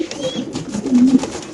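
Pigeons kept at a Bangladeshi home loft, costing at least 6,000 taka a pair, coo softly in low rolling calls, with one fuller coo swelling near the end amid faint background noise.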